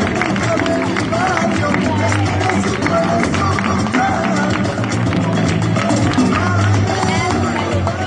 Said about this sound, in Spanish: un fuerte aplauso para Full